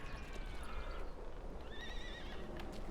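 A horse in the Western video game Call of Juarez Gunslinger gives a clear, wavering whinny over a dense backdrop of game noise and rumble, with hoof clip-clops mixed in and no speech.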